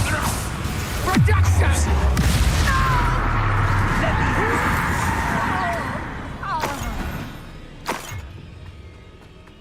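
A Confringo blasting spell cast and exploding in a Harry Potter video game, with a low rumbling boom and crackling magic swelling under spoken lines, then sharp impact bursts toward the end.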